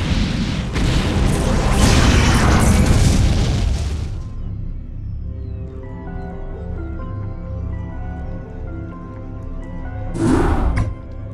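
Detonated charges explode in a StarCraft: Remastered cutscene: a loud, sustained roaring blast rumbles for about four seconds, then gives way to a tonal musical tail, with another brief burst near the end.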